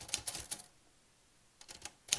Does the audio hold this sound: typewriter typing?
yes